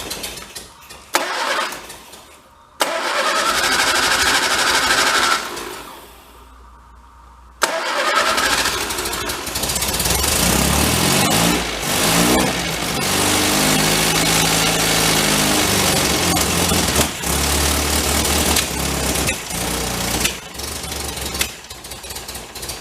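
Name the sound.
1953 MG TD barn find engine running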